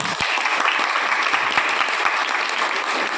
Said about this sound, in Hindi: एक बार उनके लिए भी तालियां हो जाए।